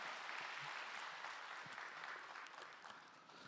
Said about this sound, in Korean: 우리 함께 같이 인사할 때 크게 박수하시겠습니다.